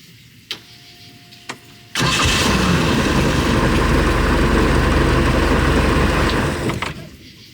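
A Mercruiser 3.0 boat engine, freshly fitted with new lifters and push rods, cranks over after a couple of faint clicks and catches, then runs loud and steady for several seconds before cutting off abruptly.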